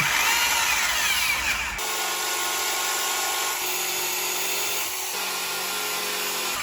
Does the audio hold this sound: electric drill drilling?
yes